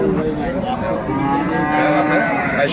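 A cow at the Aftabganj cattle market in Dinajpur gives a long, sustained moo lasting nearly three seconds, close and fairly loud over a steady background of market noise.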